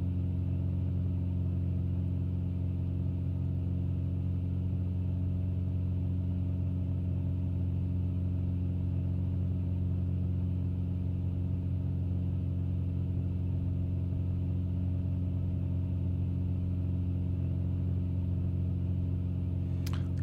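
A light aircraft's piston engine drones in X-Plane over Slovenian scenery, a steady low hum held at constant power for the whole stretch, near and even, with no talk over it.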